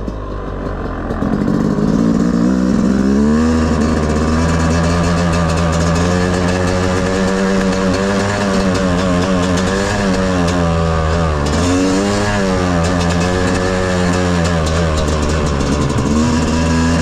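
A Yamaha YZ 250 two-stroke motorcycle engine revving during break-in, loud and close, with a raspy buzzing drone that climbs and falls in pitch through repeated rev swells, alone without talk.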